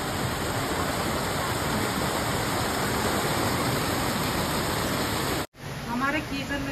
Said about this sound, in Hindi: पानी ने यहाँ से अपना रास्ता ही बना दिया, ये देखो इतना भयंकर वाला पानी